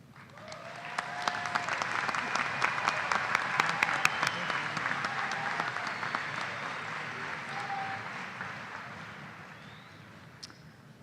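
Large crowd applauding at a university fall commencement ceremony, a sustained broad wash of clapping with scattered sharp claps and faint crowd murmur.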